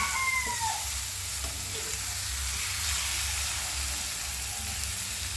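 Egg being stirred into bitter gourd (ampalaya) frying in a pan, a steady close sizzle with light spoon scrapes running throughout, with no talking.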